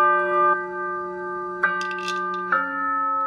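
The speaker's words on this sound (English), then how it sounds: "Chimes." Three chimes are struck one after another, each a bright metallic ring that sustains and overlaps the one before, heard close and clear with no voices.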